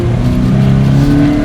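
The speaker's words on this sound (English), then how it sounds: "The engine sounds really good." A 2020 Subaru BRZ engine pulls hard under acceleration on a road test, a loud, steady droning note heard from inside the car with no talk over it.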